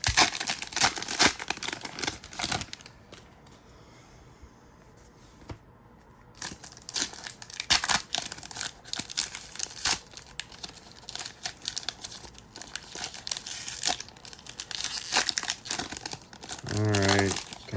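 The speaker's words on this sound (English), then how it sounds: "It always worries me open up packs like that." Solo Leveling trading card packs being torn open and handled, with close crinkling foil, ripping and rustling in busy irregular bursts, a short lull early on, and brief muffled talk.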